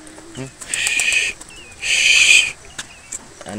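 Two bursts of soft, breathy pigeon calls, each lasting under a second, over a quiet background with faint human sounds between them.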